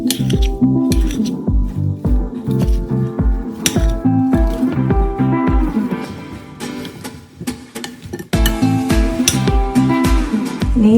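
Chicken and potato bake ingredients are mixed in a bowl, with wet squishing and repeated clinks of a utensil against the dish in an uneven, close rhythm.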